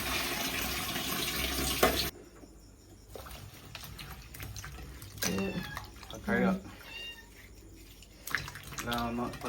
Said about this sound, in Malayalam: വൃത്തിയായിട്ട് കഴുകി